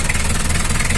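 A rough-running diesel engine in a Mitsubishi L300 or Isuzu Panther chugs at close range, idling with a loud, uneven rhythmic knock and shaky vibration throughout.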